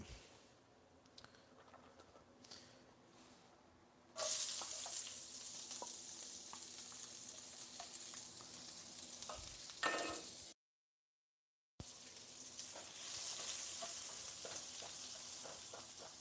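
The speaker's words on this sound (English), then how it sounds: "you guys are going to get to hear the sizzle quite well." Quiet clattering and stirring give way to a loud, steady sizzle of noodles frying in a pan, continuing close up with a brief dropout partway through.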